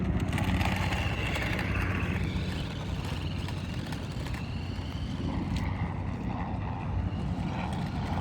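A toy-grade Rezvani Tank RC car drives around planters outdoors in daytime, giving a steady, loud whirring motor drone with broadband rumble that runs unbroken throughout.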